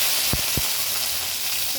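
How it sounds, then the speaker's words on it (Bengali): Garlic sizzles in hot mustard oil in a wok, a steady bright hiss with a couple of sharp crackling pops early on, close and continuous. "এগুলো এখন সরিষার তেলে ভাজবো"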